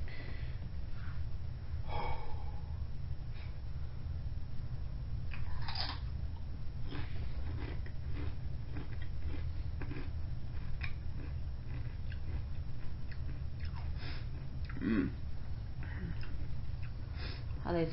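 Paqui chili limon tortilla chips crunched and chewed close up, a run of irregular crisp bites and munching over a steady low background hum, with no talk during the chewing.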